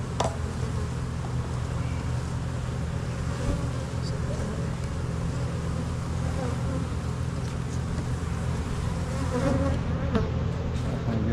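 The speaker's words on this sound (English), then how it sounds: "There's way too many bees in here." A dense swarm of honey bees buzzes constantly in an almond orchard during pollination, a loud, close, unbroken drone that holds steady throughout.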